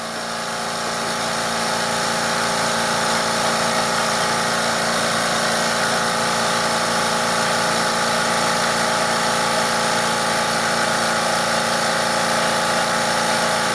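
A California Air Tools air compressor pumps up through a manifold with a 3/8 inch air hose, running as a steady, fairly loud mechanical hum that holds even and unbroken from start to finish.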